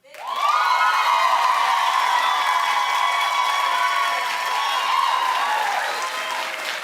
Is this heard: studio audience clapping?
yes